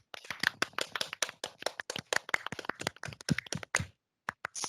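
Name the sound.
audience applause for a presenter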